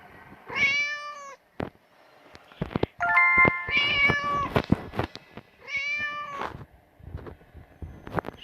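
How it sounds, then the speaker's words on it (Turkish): A hidden cat meows in the Hello Teacher video game, three loud drawn-out meows spaced apart with a higher warbling cry in the middle and clicks between, no talking. "Kedi orada saklı"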